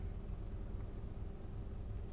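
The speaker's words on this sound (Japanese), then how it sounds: "今停車中の車の中です" Inside a stopped car, a steady low rumble and a soft, even broadband hiss fill the cabin without change, and no one speaks.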